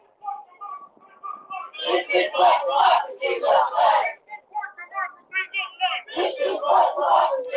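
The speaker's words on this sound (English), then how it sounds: "what's the chant right now, Adam?" A large crowd at a protest in Georgia chants a rhythmic slogan in bursts of loud, syllabic shouts, repeating in waves with short pauses between phrases.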